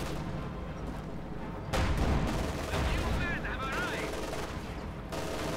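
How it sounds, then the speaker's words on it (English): Gunfire crackles in a Company of Heroes 2 battle, where a Pioneers anti-tank rifle shreds an anti-tank gun, with bursts of shots and impacts over a dense game soundscape while a commentator talks. "the anti-tank gun got wrecked there. I think actually shredded by the Pioneers anti-tank rifle"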